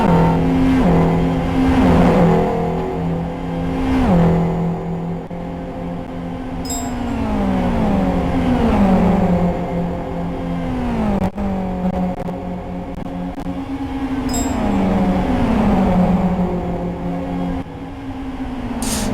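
Race cars circle a track at the 2012 Kyoto 400 race, a group of three engines droning and rising in pitch close by, with repeated passes and revving sweeps over a steady roar.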